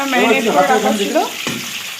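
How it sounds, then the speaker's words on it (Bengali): Chicken pieces frying in a pan for chilli chicken, a steady close sizzle with stirring scrapes that fade after a sharp clank near the end, leaving a softer hiss. "এখন ভাজা চলছে এখানে কিছু ভাজাও হয়ে গেছে"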